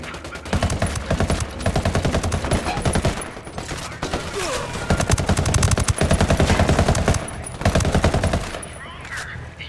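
Sustained automatic gunfire in the tactical shooter Ghost Recon Wildlands, dense rapid bursts from several weapons with short pauses, loud and close, tapering off near the end.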